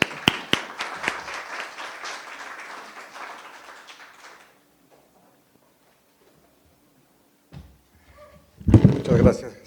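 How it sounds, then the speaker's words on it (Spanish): Applause from an audience at a Spanish-language cultural event welcoming a guest representative, a few seconds of steady clapping that fades to silence, followed by brief rustles and a burst of nearby noise. "Recibamos con un muy fuerte aplauso"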